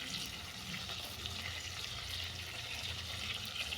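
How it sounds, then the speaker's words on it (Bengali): Prawns fry lightly in a pan for a Bengali sesame prawn dish, making a faint, steady hiss and sizzle with no talk. "চিংড়ি মাছটাকে হালকা করে এপিট করে ভেজে নিচ্ছি"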